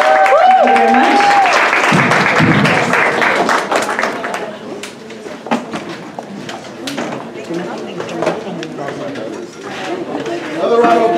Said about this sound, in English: Another round of applause for Sierra Hall, everybody.